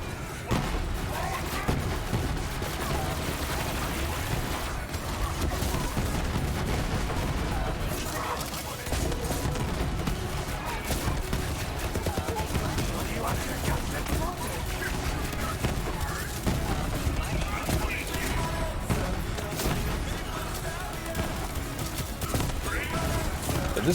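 A Torque pistol fires in Borderlands 3 amid a dense, constant wall of game combat noise. Shots, impacts and effects blur together loudly and steadily from start to finish.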